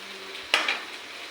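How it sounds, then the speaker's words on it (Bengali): Fish fries in a wok with a steady soft sizzle, broken midway by one sharp stirring clatter and a smaller knock just after. "এদিকে মাছ ভাজা হচ্ছে"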